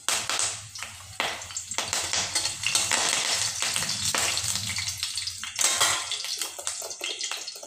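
Cumin, mustard seeds and curry leaves hitting hot oil in a home kitchen, a loud close crackling sizzle in uneven bursts with stirring noises, no talk.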